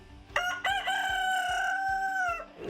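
A rooster crows once, loud and close, a long drawn-out cock-a-doodle-doo holding steady before trailing off.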